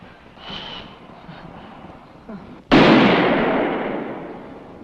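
A handgun fires a single loud shot at shooting practice, a sharp crack that rings out and decays over two seconds after a quiet stretch of faint movement.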